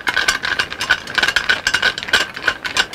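Screws are worked loose to release the burner tube on a Dometic RV furnace, producing a steady close-up scraping, ratcheting mechanical sound with a faint whine running through it throughout.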